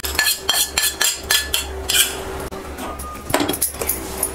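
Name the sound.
transferring roasted coconut into a vessel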